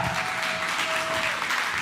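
Audience applause fills a church conference hall, a steady, dense wash of clapping that holds at an even level from start to end.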